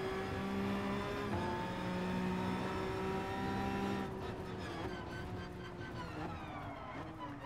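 Peugeot concept race car in Gran Turismo Sport roars at high revs, close and loud. The pitch climbs, then drops as the car shifts and changes speed, and the engine note grows rougher near the end.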